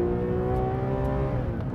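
A sports car engine revs hard and steady, a loud close throaty roar with a rising whine, no voices.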